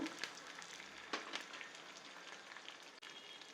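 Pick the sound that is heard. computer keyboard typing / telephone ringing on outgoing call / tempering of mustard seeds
tempering of mustard seeds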